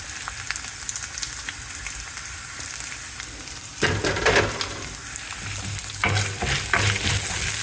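Hing, garlic and ginger fry in hot oil for a basil chutney, a steady crackling sizzle that flares louder midway with stirring scrapes, close and alone.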